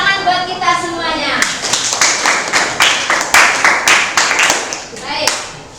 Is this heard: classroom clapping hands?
yes